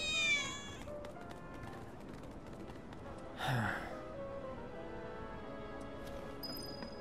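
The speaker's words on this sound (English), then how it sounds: "I think one of Betty's cats might be nearby." A cat meows softly nearby in Final Fantasy VII Remake, a brief mew rising over a steady bed of game ambience and music, with a quieter second call later.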